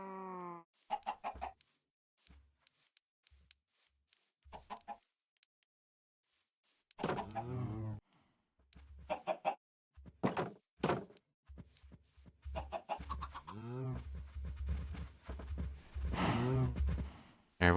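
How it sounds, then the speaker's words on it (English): Minecraft chickens cluck in short, scattered bursts, the clucks growing busier and overlapping toward the end, with a few other in-game noises between them. "the chicken stopped following me"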